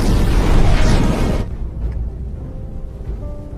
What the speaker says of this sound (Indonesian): saat akan beristirahat, malah terjadi ledakan di kapalnya